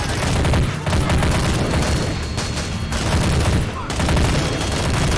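Dense, continuous barrage of booming explosions and gunfire rumbles through a WWII battle simulation game, loud and relentless with overlapping blasts and no clear gaps.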